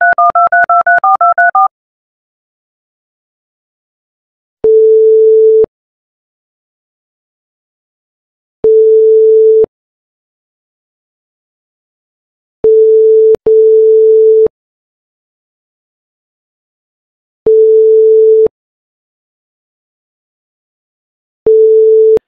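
A telephone call sounds a quick series of keypad beeps, then a single steady tone repeats in roughly one-second pulses every few seconds, loud and clean against silence.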